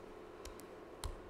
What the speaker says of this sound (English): my keyboard has lost not only the T, but also the R key. So typing return takes me like 30 seconds